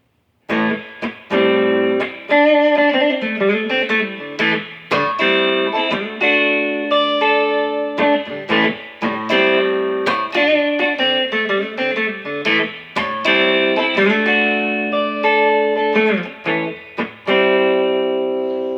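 Simple electric guitar chords on D'Addario Chrome flatwound strings with a mellow tone, strummed one after another in a steady series of loud, ringing chords with no talking.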